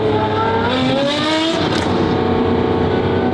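A modified Porsche engine revs loudly and close, its deafening roar climbing and falling in pitch across several rising sweeps, with no talking.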